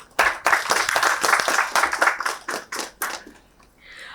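Close, loud clapping from a small audience at a corporate event in Mumbai, a quick burst of many hands that runs for about three seconds and then fades abruptly.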